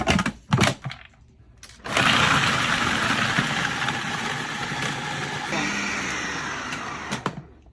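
A food processor whizzes digestive biscuits, hazelnuts and melted butter for a banoffee pie base. After a few short knocks, it runs as a loud, steady whirring roar for about five seconds and then cuts out.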